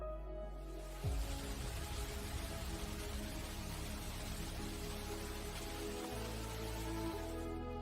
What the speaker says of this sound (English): its centerpiece is the Rain Vortex, the world's tallest indoor waterfall, standing at 131 feet.